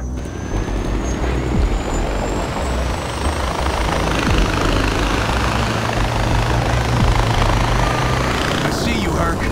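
A loud helicopter drones steadily with a continuous low rotor rumble in a Far Cry 4 game scene, mixed with truck engine noise and other vehicle sounds, and voices speak over it.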